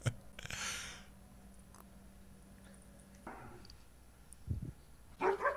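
A dog gives a few short barks and yips, spaced out and fairly close, with quiet gaps between them.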